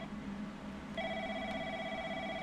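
In a video game, a telephone starts ringing about a second in and keeps up a bright, steady electronic trill to the end, loud and close over a low background hum.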